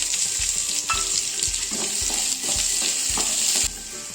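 Chopped onions frying in oil in a pan for an egg curry, a steady close sizzle broken by a regular scraping rhythm of stirring, roughly twice a second, with no talk.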